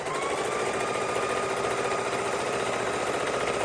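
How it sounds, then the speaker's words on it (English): A sewing machine runs steadily at about twelve stitches per inch along the edge of a baby quilt, a continuous fast mechanical whir with a fine rapid chatter, close and even in level for the whole stretch, no speech. "we're going to go ahead and sew this right along the edge of our baby quilt"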